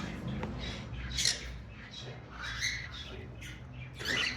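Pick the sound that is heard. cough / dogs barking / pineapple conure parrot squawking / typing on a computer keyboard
pineapple conure parrot squawking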